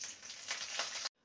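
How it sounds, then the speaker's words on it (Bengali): Half a teaspoon of black cumin seeds sizzles in hot mustard oil in a kadai, a steady crackling hiss for about a second before it cuts off abruptly. "ফোড়নটা ভাজা হয়ে গেছে"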